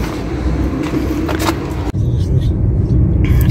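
A car driving on a road, a steady loud engine and tyre rumble filling the cabin throughout, with a brief dip partway through and faint hints of voices inside.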